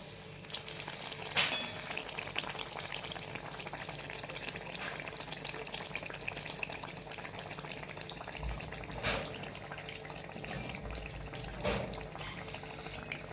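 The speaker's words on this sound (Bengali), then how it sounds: "এটা ছোট কড়াইয়ের জন্য আমি একটা একটা করে এটা ভেজে নেব পাকানগুলো" Pakuan frying one at a time in a small karahi of oil, producing a soft, continuous bubbling sizzle with occasional louder pops and no talking.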